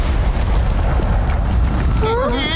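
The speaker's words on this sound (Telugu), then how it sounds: "సార్, ఆ మాన్స్టర్ పేలిపోయింది." A monster blows up in an animated cartoon with a dense, sustained rumbling blast that fills the whole stretch, followed by rising whooshing tones near the end.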